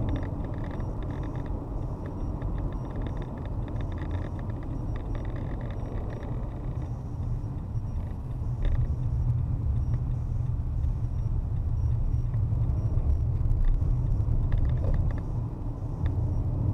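A car drives down off a tall bridge in Corpus Christi, Texas, giving a steady low road rumble and tyre drone that swells slightly louder partway through, with no voices.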